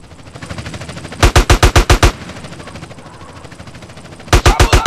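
Automatic gunfire in the video game Grand Theft Auto: San Andreas fires in two loud, rapid bursts of sharp, evenly spaced shots over a low background bed, with a pause in between and no voices.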